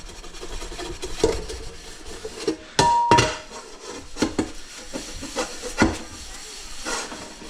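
Stainless steel and tinned copper pans being scrubbed and handled in a kitchen sink, with irregular scraping, rubbing and sharp metallic clanks against running water hiss.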